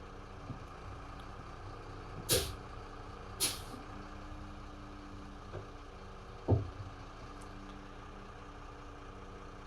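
A mobile crane in 2-wheel drive idles with a low, steady diesel rumble, broken by three sharp air-brake hisses, two close together early and one later, as it readies to drive off.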